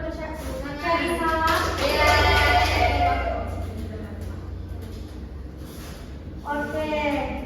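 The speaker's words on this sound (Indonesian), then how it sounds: "Tepuk tangan untuk Carissa." A classroom of students claps for a classmate during a microteaching lesson on cell membrane transport. The clapping swells briefly and is mixed with children's voices and chatter, and a voice continues over it as it fades.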